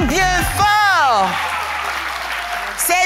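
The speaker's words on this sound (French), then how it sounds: "On peut les applaudir bien fort." An audience applauds children after a game. A brief burst of clapping is heard, with loud children's and adult voices over the start and a high voice coming in near the end.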